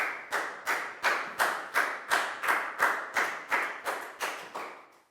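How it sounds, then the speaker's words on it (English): A Year 4 class claps in unison for a pupil, about thirteen sharp, evenly spaced claps in a steady rhythm, each with a short room echo, growing slightly quicker and softer toward the end. "a big round of applause for Pat"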